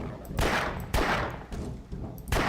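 Gunfire in the video game Half-Life: three or four sharp, loud shots burst at irregular intervals over a low game backdrop.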